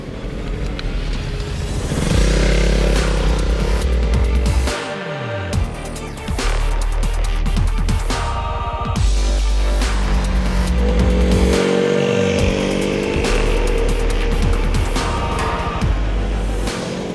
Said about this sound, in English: We're going to be riding this on the road and then on track for a couple of hours.